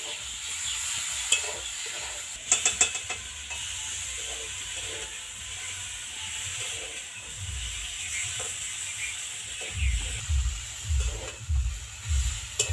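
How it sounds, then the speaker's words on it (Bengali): A spice paste with ground black mustard frying in a pan while being stirred, giving a soft continuous sizzle, scattered scraping clicks from the utensil, and low thumping stirring strokes that grow stronger near the end, without any talking. "মশলাটা একটু ভাজা ভাজা করা লাগবে যাতে কাঁচা গন্ধ এর না থাকে"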